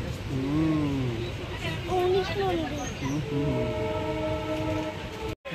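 The Saraighat Express pulls into New Alipurduar station, with a continuous rail rumble beneath wavering, horn-like tones and other sustained tonal sounds, close and fairly loud throughout.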